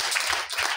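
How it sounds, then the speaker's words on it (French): Church congregation clapping in a quick, loud rhythmic burst of hand claps, nearby and without talk. "Applaudis pour le Seigneur."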